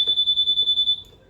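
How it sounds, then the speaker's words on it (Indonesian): A Honda Freego keyless scooter's alarm beeps fast and high-pitched, about ten rapid pulses in a single burst lasting roughly a second, close and clear before stopping abruptly. "pas gue puter alarmnya nyala guys"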